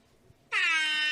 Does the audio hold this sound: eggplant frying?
no